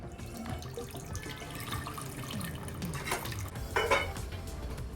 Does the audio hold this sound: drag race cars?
no